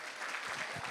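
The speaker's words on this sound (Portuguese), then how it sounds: "é uma salva de palmas para vocês aí" Brief burst of audience applause at a sales seminar, a dense wash of clapping lasting under a second with no talk over it.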